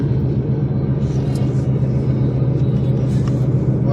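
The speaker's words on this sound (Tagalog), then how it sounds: "Traffic talaga rito sa loob na to." Slow, congested road traffic gives a steady low rumble of car engines nearby, with faint hisses from passing vehicles and occasional voices.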